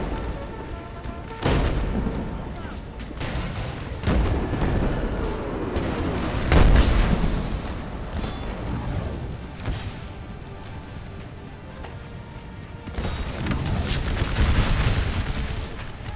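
Civil War battle in a strategy video game, with dense rolling musket fire and repeated deep artillery booms, some near and loud, others distant and rumbling, continuing steadily throughout.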